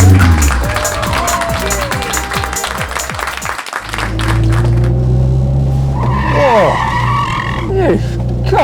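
A car driven recklessly skids with tires squealing in long, loud, sliding wails, the screeches rising and falling close by over a crowd noise in the background.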